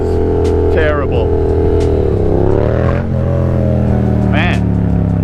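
A Yamaha FZ-07 motorcycle engine hums and revs close to the microphone during wheelie practice, rising and falling in pitch under steady wind noise, while a person talks over it.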